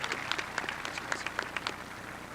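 Applause from the audience at a high school graduation ceremony, a steady wash of many hands clapping at moderate distance with scattered sharper claps, continuing throughout.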